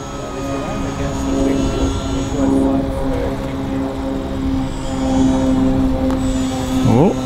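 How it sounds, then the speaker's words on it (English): A UMX Pitts S-1S radio-controlled biplane flies in for a touch-and-go landing, its small electric motor and propeller giving a steady buzzing whine that swells and fades as it passes nearby. "Try a touch and go landing here?"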